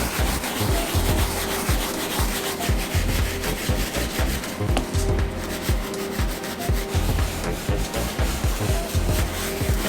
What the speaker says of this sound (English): I'm going to take a soft bristle brush, a dry one from Rejuvenator, and I'm going to massage it in.